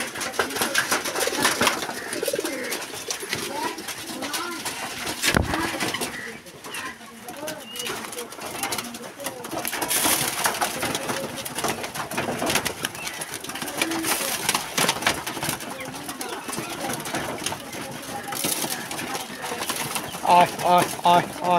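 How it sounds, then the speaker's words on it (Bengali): Pigeons on a Bangladeshi pigeon farm that keeps several breeds, including Rajshahi Giribaj and Huma, coo and stir through a busy stretch, with wing flaps and bird calls mixed into steady background noise. "এখানে অনেক ধরনের কবুতর আছে, রাজশাহী গিরিবাজ আছে"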